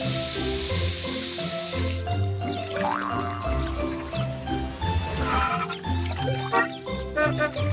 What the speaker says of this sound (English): Max fills the pool with water from the watering can.